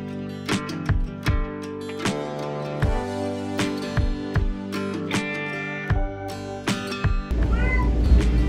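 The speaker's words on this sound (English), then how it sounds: "she's meowing a whole lot" A distressed cat inside an RV meows over and over, loud and close, in a series of drawn-out wavering cries with short gaps, ending in rustling movement.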